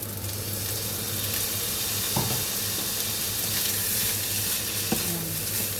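Fried rice with sausage, salmon and fishball sizzles steadily in a pan as soy sauce goes in, a continuous crackling hiss with a couple of sharp clinks of utensils against the pan.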